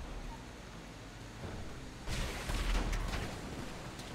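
Tank cannon fire and explosions in GTA 5 during a raid on Fort Zancudo: a low steady rumble, then a heavy muffled boom that swells and lingers for about two seconds before fading back into the background roar.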